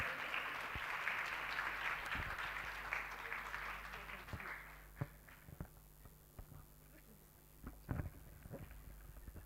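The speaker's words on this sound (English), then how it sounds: "let's honor her by giving her a round of applause" Applause from a room of people at a Children's Day celebration fills the first few seconds, then thins out to scattered claps and soft thuds as it fades.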